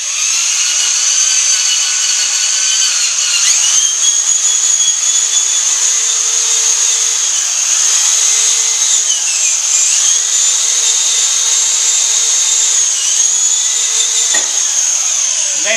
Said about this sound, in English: This is just a wire brush.